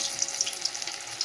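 Battered pieces deep fry in hot oil, giving a steady, soft bubbling sizzle with small crackling pops and no talking.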